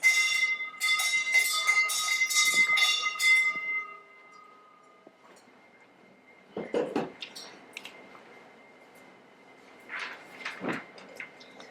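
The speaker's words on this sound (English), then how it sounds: "After a time, the boat bell is heard, signaling the arrival of the boats." A ringing metallic bell announcing arriving boats, a rapid run of clear strikes up front, then a quiet stretch broken by a few scuffs and knocks, no talking.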